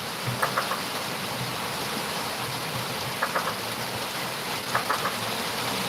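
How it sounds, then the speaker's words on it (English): Steady rain pours down outdoors as a constant, dense hiss, with a few faint clicks from a workbench nearby and no talking. "hear that rain"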